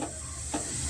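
Cumin seeds crackle and sizzle in hot oil while tempering spices for a hotel-style vegetable saagu, a steady close frying hiss with a brief stir or burst partway through.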